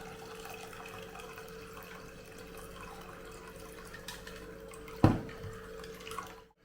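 Ginger, mint and lemon juice strained through a kitchen sieve gives a faint, steady trickle of liquid, with one brief louder splash or knock near the end.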